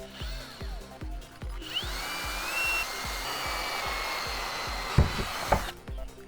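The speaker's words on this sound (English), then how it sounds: "So we're going to drill some holes in here." A power drill bites through material while holes are drilled for a homemade magnetic drum delay line memory, opening with rapid motor pulses, then a sustained whirring spin and a couple of sharp knocks, close and without talk.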